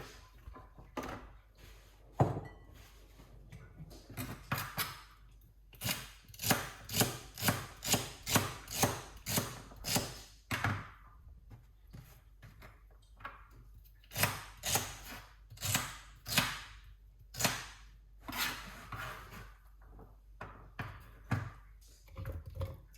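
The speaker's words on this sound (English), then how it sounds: "So I'm gonna cut up some celery." A knife chopping celery on a cutting board, a close series of crisp, sharp cuts in quick regular runs, broken by short pauses between batches.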